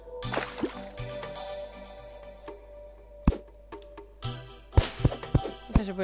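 Water dripping and splashing in the Terraria video game, a series of sharp drip and splash hits over tonal game music, with a cluster of louder drops near the end.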